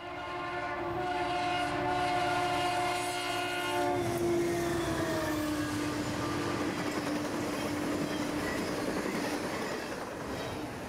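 A Conrail freight train passes with a long horn blast that fades into the steady roar and rumble of rolling cars. The sound is loud and continuous.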